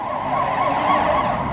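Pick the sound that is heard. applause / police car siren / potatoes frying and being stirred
police car siren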